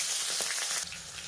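Katla fish oil hitting hot mustard oil in a kadai sizzles in a steady broadband hiss, easing slightly partway through as the fat settles.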